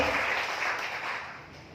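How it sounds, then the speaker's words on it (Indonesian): A church congregation gives a sustained burst of applause to God during a sermon, a dense roomful of clapping that fades slightly toward the end. "Kasih tepuk tangan yang hebat kepada Tuhan"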